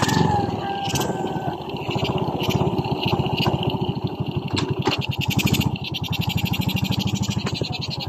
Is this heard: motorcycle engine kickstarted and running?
yes